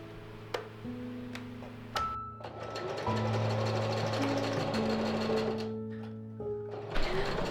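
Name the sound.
sewing machine hemming sleeves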